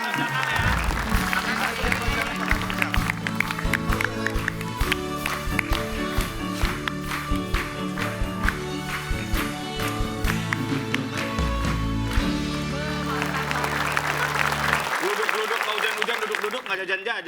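Elementary school children clap their hands together in a steady rhythm, loud and close, with voices chanting and talking over the clapping.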